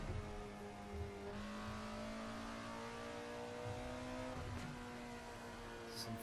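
The engine of an Alfa Romeo 33 Stradale in the racing simulator Assetto Corsa drones steadily while driving on track, a continuous tonal whine with slight pitch shifts, heard alone at moderate loudness.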